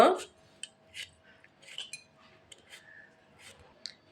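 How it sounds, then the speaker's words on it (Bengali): Beetroots being peeled with a knife by hand, a series of soft, scattered scraping and light clinking strokes at close range, irregularly spaced after an initial louder knock, quiet overall. "বিটরুটগুলা আমি ভালো করে ছুলে নেব।"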